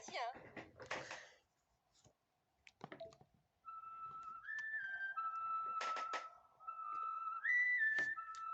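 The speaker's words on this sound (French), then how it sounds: "Dino, te rappelles de la petite chansonnette qu'on sifflotait?" A little whistled tune from the video game Yo-kai Watch 3, a bright sliding melody of held notes that rises and steps between pitches for several seconds, following sparse clicks and brief speech-like sounds.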